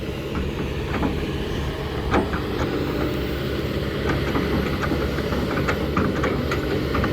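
A Kobelco SK200 excavator digging a farm pond and earthworks, its engine a steady loud rumbling drone with intermittent clanks and knocks from the working machinery.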